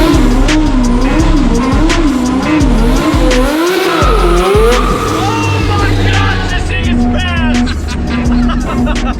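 A turbocharged mini truck does a burnout nearby, with loud squealing, skidding tires and a wavering, whining turbo spool over a rumbling engine, while voices are faintly present.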